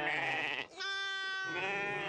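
A herd of sheep in a tent enclosure in the Moroccan Atlas mountains: several close, loud bleats, one drawn-out cry followed by another, with no talking.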